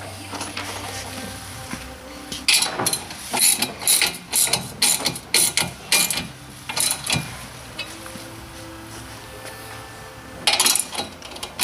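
Fasteners are tightened during assembly of a tool rack boom kit: a series of close, rapid ratcheting bursts, several in a row with short pauses, then a final burst after a quieter stretch.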